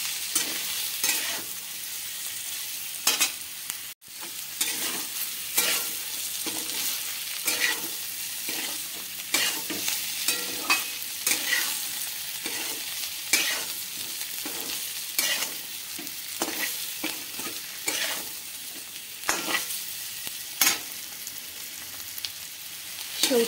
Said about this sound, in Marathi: गॅसची फ्लेम कमी नाही, हाय फ्लेमवरच आपल्याला हे हलवत राहायचं आहे